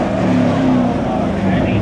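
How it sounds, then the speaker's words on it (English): A supercharged V8 car engine at a street car meet revs loud and close, holding a deep, steady roar for about two seconds, with people talking over it. "Just a little supercharged V8."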